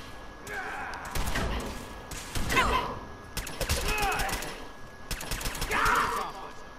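Several bursts of rapid gunfire from Fallout 4 crackle in clusters a second or two apart, loud and sharp against a low game background with thuds between volleys.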